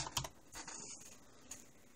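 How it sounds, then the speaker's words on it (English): Computer keyboard keys pressed on a desktop to wake it from sleep: a few quick, close plastic clicks, the loudest near the start, then quieter taps over faint room hiss. "But you'll be able to start it back up with the keyboard."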